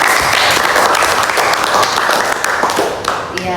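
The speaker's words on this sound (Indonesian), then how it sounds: "Iya, berikan tepuk tangan." A classroom of students claps together in sustained, dense applause that holds steady for several seconds, close and loud.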